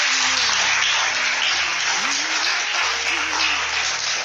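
Church congregation applauding in a steady, dense wash of clapping that lasts throughout, loud and close, while a voice speaks over it.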